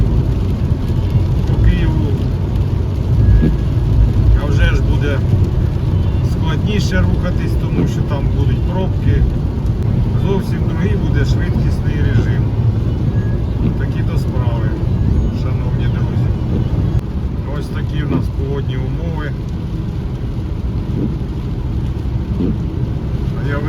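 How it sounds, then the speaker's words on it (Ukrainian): A car cruises in fifth gear on a wet road in the rain, a steady low rumble of engine and tyre noise with rain hiss throughout, while someone talks over it. "Їду собі на п'ятій передачі."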